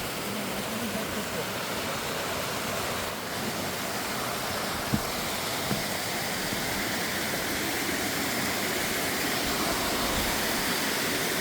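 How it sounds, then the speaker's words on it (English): A waterfall right off the road at the start of an Appalachian Trail hike near Winding Stair Gap roars steadily and loudly close by, a continuous broadband rush with no break throughout. "right off the road, we come to this really nice waterfall."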